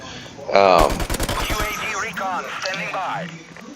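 Rapid burst of MP44 fire in a video game, a quick string of sharp reports lasting about a second, followed by someone talking over fainter game sounds.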